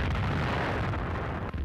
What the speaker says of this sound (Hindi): एक धमाके में उड़ गया यूक्रेन का एम्युनिशन डिपो